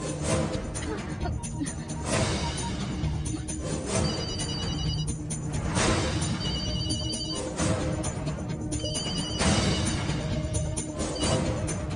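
A phone ringtone plays continuously, a repeating electronic melody with bright chiming tones, fairly loud and steady throughout.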